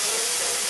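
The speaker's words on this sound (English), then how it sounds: "Bacon on a large skillet." Maple bacon sizzles on a large skillet, a brief, steady broadband hiss heard close up without pause.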